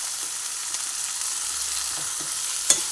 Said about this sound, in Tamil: தக்காளி கொஞ்சம் நல்லா ஸ்மாஷ் ஆகணும், அது வரைக்கும் வதக்கிக்கோங்க.